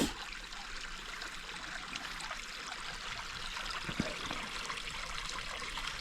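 A creek runs steadily near an off-grid cabin in Vermont in late November, a constant close rush and trickle of water with no voices.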